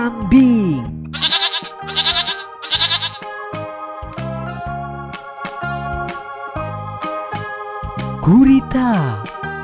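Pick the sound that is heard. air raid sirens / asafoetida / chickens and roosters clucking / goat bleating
goat bleating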